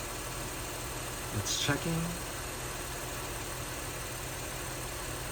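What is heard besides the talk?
car engine idling during alternator check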